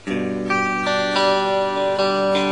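Clean electric guitar chords through a Behringer DR100 spring reverb and a Fender Bassman ring out with a splashy spring reverb tail, several strums in a row sustaining over one another.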